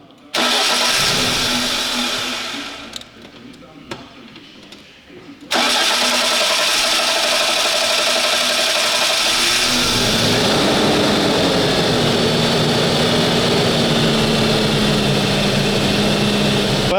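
A Renault car engine, just repaired, cranks, stalls briefly into quiet, then starts and roars loudly before settling into a steady idle, heard up close.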